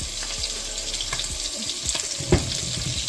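Lemon strips searing in hot butter in a pan, a steady soft sizzle with scattered crackles and pops and one sharper spit near the end, with no talking.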